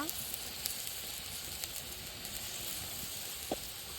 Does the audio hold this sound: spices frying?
yes